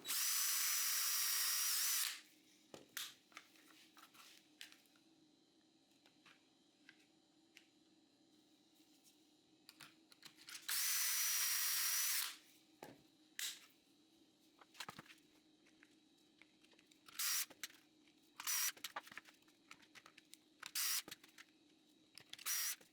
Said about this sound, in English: Add 2 pocket holes per side on the less good looking side.